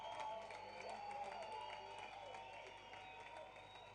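Spectators clapping for a runner at an outdoor youth cross-country race in a park, faint and distant applause spread steadily under crowd noise and a hum for the whole stretch.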